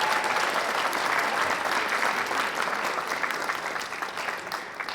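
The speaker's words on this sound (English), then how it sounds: "Give a huge round of applause for your parents and grandparents and everybody here too" A large audience applauds the children's parents and grandparents at a school induction ceremony, a dense, steady roar of clapping that continues for the whole stretch and eases off slightly near the end.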